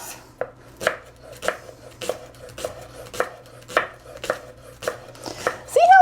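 A knife chops leeks on a cutting board for leek tarts, producing a steady series of about ten crisp, close chops spaced roughly half a second apart, with no voices.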